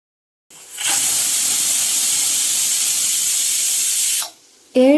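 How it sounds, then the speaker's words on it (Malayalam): A pressure cooker of pork on high flame vents steam in a loud, steady hiss for about three and a half seconds, dropping off briefly before a sharp whistling surge at the end. "മിക്സ് ചെയ്ത ഇറച്ചി ഒരു പ്രഷർ കുക്കറിലേക്ക് വെച്ച് ഹൈ ഫ്ലെയിമിൽ വേവിക്കാനായി വെക്കുക"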